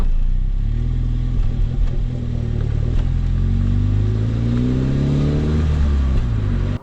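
A Mini Cooper S F56 third-generation with a manual gearbox runs its engine with a steady, loud mid-range hum that rises and falls in pitch as it revs, alone without talk.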